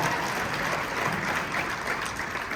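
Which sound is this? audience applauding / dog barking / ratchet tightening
audience applauding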